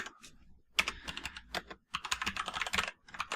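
Close typing on a computer keyboard in a quiet room, a short pause followed by quick, uneven runs of crisp key clicks.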